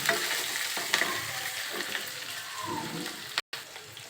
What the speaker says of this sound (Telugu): ఆనియన్స్, పచ్చికరివేపాకు వేసేస్తున్నాను. వేసి ఒకసారి కలిపేయండి.